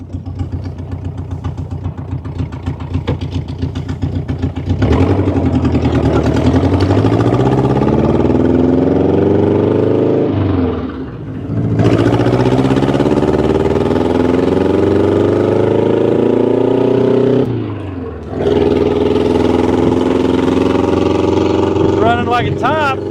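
A 1976 VW-frame dune buggy with a Berry T body, suffering a misfire and low power, drives with its engine droning loudly. The pitch climbs through repeated revs with brief dips between gear changes.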